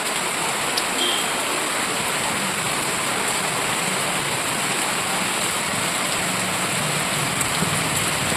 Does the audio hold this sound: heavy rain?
yes